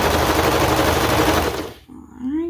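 A serger runs along a ruffle seam on a leotard with a dense, fast, loud buzzing rattle for about a second and a half, then stops abruptly and leaves a brief quieter tail.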